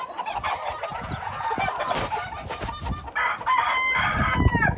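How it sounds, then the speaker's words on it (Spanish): Roosters crow and chickens cluck in a cockfighting pen, several birds calling close by with overlapping crows and clucks over a busy farmyard background. "Aquí tenemos otra línea de pollos."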